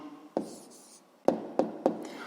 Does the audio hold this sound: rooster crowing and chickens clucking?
no